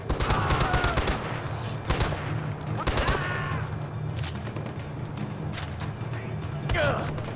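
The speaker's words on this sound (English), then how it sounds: "But now they're shooting guns at me." Enemy gunfire in Far Cry 4: repeated clusters of sharp rifle shots and short automatic bursts, some close and loud, over a steady ambient hum, with someone talking intermittently.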